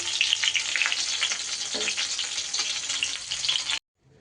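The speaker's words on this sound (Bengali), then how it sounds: "মাছও কিন্তু আমার খুব সুন্দর করে ভাজা হয়ে গেছে এবার মাছগুলো আমি তুলে নেব" Pieces of rohu fish frying in hot oil give a bright, continuous close sizzle with crackling pops, then it cuts off abruptly near the end.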